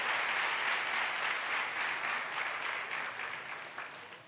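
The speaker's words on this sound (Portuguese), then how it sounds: "Eu queria até que você desse um grande aplauso para todas essas pessoas, todos os voluntários, todos os pastores" Steady, sustained applause from a church congregation honoring its volunteers and pastors: many hands clapping together at moderate volume, gently fading toward the end with no voices on top.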